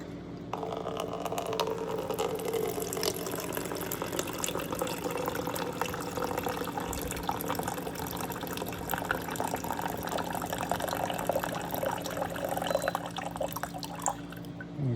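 A SimPure countertop reverse osmosis water filter dispenser pours a measured amount of water into a container, giving a steady, continuous trickle and pour with faint pump hum that lasts the whole stretch and is heard up close with no talking.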